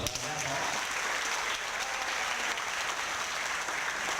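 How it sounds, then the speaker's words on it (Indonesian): An audience at a motivational talk event claps in a sustained, even wash of applause, moderately loud, with a voice briefly audible at the very start. "Tepuk tangan dulu dong."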